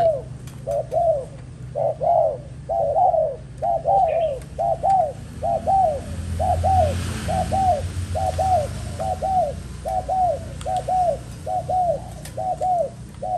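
Malaysian spotted doves in a cage give steady, repeated cooing phrases, about two dozen even calls in a regular rhythm, close and clear over a low background hum.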